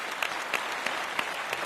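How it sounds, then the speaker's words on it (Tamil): Steady audience applause fills a TV show studio, a dense wash of clapping with a few sharper peaks, continuing evenly throughout with no speech. "ஒரு மிகப்பெரிய கைத்தட்டல் கொடுக்கணும் இந்த இடத்துல"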